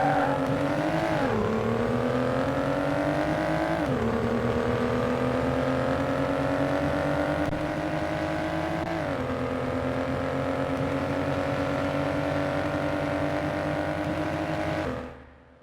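In a video game, a Porsche 918 drives at high speed: a loud, steady engine whine that climbs in pitch through several gear shifts with brief dips, then fades out abruptly at the end.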